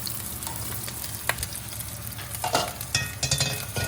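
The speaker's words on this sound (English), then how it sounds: "Now I'm actually going to strain in my homemade broth." Homemade dashi broth is strained into a hot sukiyaki pot of frying fat, giving a steady sizzle with light stirring and clinks, close by.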